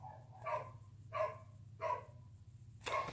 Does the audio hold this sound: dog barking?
yes